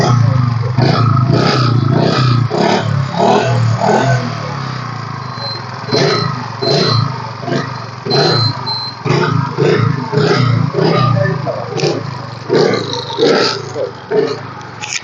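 A 2016 TVS Jupiter scooter starts up and runs, producing a clattering, uneven engine patter with bursts of revving that settle into a choppier idle, heard close by.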